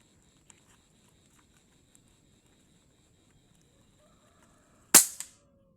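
A single sharp, loud gunshot from a rifle at a 40-metre shooting range rings out near the end, with a short echoing tail after a quiet stretch of faint background noise.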